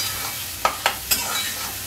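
Fish pieces drop into a pan of frying spice masala, three sharp clatters over a faint, steady background sizzle.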